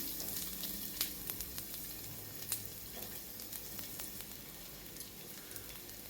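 Sweet corn veg cutlets sizzle and fry in hot oil on a flat pan, a steady crackling hiss with scattered sharp pops, loud and close with no talking.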